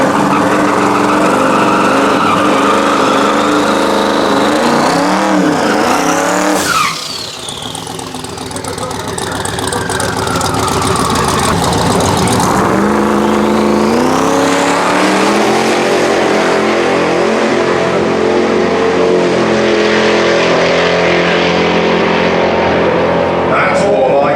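A car on a drag racing run at a UK multi-track drag event roars loudly through hard acceleration and gear changes, then sweeps past and fades while a commentator talks over the engine.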